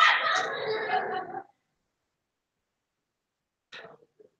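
A dog barks and yips in a burst lasting over a second, fairly close and loud, then a short whimpering yelp follows after a long silence.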